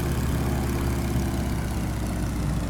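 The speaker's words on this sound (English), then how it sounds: "You notice that engine starts to sputter a bit or slow down a bit because it does not have an inverted system." The radial engine of a Stearman PT-17 biplane in a flight simulator game drones loudly and continuously with a low, steady rumble during an aerobatic roll, with no clear surge or dropout and no voices.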